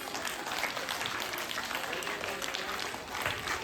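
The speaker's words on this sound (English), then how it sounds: "Clapping." Audience applause at a school Diwali and sports week prize distribution ceremony, steady dense clapping throughout with a low murmur of voices underneath.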